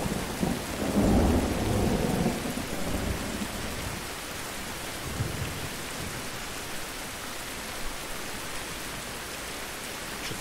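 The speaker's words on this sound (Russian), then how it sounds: "А под пальмой можно спрятаться от дождя?" Rain and thunder in the survival game Survival: Fountain of Youth: a low rolling thunder rumble opens over steady hissing rain, then fades while the rain keeps falling evenly.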